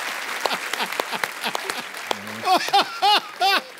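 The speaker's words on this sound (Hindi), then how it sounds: "ठोको ताली।" Studio audience applause on a Hindi TV comedy show, a run of short clapping bursts with a brief hum, then louder cheering swells mixed in toward the end.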